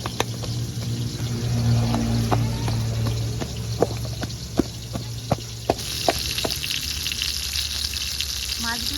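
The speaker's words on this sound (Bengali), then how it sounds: "মাছগুলো ভাজা হতে লাগুক" Bhola fish keep frying in hot oil with a steady close hiss, joined by a low background hum and a run of sharp taps and clicks as pieces are moved. No voices are heard.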